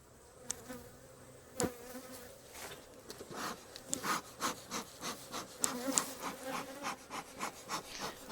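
Bees buzz steadily close by while a hive is split, with scattered louder passes and some light rubbing or knocking sounds mixed in.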